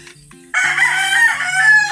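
A native chicken rooster crows loudly and close by, one long sustained cock-a-doodle-doo call rising after a brief quiet start, with no talking.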